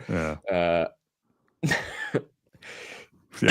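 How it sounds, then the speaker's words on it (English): Two short harsh bursts like coughs, followed by a few quieter breathy, throaty sounds separated by pauses, close to the listener. "Yeah, I see you're struggling with a cough."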